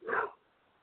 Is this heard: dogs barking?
yes